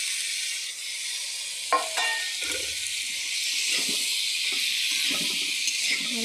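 Chopped ridge gourd drops into a pan of fried spiced masala and sizzles loudly and steadily. A few clattering stirs and scrapes sound close by over the constant frying hiss.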